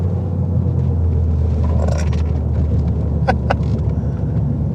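A Ford Focus ST hot hatch rounds a corner, its engine a steady, loud low rumble with road noise throughout, briefly rising mid-way and joined by a couple of short sharp ticks near the end.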